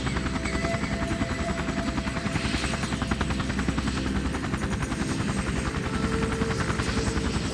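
A helicopter flies over hilly terrain in a drama scene, its rotor producing a continuous rapid chopping thump with steady engine whine, loud and unbroken throughout.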